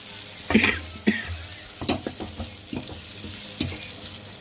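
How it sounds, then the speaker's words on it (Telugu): Thinly sliced onions, tomatoes, green chilies and curry leaves fry with cumin and mustard, a close sizzle broken by several distinct spoon scrapes and knocks against the pan. "సన్నగా తగిన ఉల్లిపాయలు ఇంకా అలానే పచ్చిమిర్చి కరేపాకు వేసి వేయించుకున్నాం"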